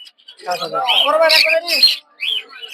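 Lovebirds at a village bird market give loud, close squawks and chattering calls in a short, busy burst, followed by a brief pause and another sharp call.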